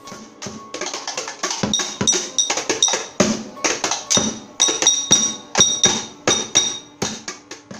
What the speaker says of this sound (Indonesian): warga mulai menabuh ember kaleng dan botol sambil memanggil-manggil nama ketiganya